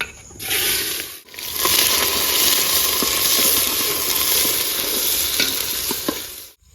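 Onions frying in mustard oil for a mutton dish, a loud, close, continuous hiss and crackle that starts abruptly after a brief quiet break, with occasional scraping stirs through the sizzle.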